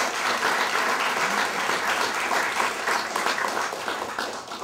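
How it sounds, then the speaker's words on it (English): Sustained applause from an audience at a formal celebration in the Bahamas, many hands clapping in a strong steady wash that eases slightly toward the end. "a wonderful round of applause"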